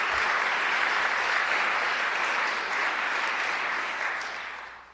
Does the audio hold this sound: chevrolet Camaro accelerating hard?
no